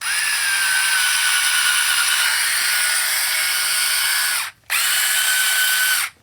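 A power drill spins a stainless 6-32 screw into a plastic bicycle headlight housing, a loud steady high whine running nearly continuously, with one brief stop before spinning up again and cutting off at the end.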